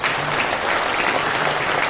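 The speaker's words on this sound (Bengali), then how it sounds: "এই কারণে আমি ডেপুটি ডিরেক্টর আর অ্যাসিস্ট্যান্ট ডিরেক্টর তাদের জন্য একটা করতালি চাই।" An audience at a business conference in a Sheraton hotel bursts into dense, sustained applause, a steady wash of many hands clapping close by with no voices over it.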